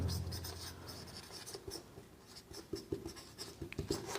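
Chalk or marker writing on a board during a physical examination lesson, a run of short scratchy strokes and taps, close and fairly quiet, with no talking over it.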